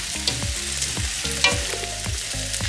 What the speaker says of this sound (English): You want to keep stirring and stirring and stirring.